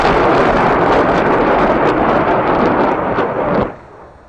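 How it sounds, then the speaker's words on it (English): TSO-1 rocket launcher firing its rockets, a loud continuous rumbling roar with crackling bursts that holds steady for several seconds before cutting off abruptly. "check out this video of the TSO-1 firing its rockets"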